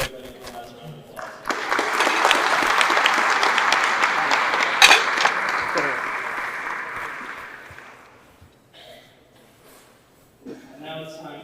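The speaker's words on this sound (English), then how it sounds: "Let's give everybody a last round of applause." Applause breaks out for sports award nominees at a Rotary sports awards ceremony, a dense crowd clapping that swells, holds for several seconds and fades out, followed by brief murmurs.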